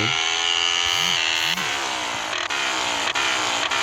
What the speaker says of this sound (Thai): นี่เสียงท่อก็ลั่นเลยเนี่ย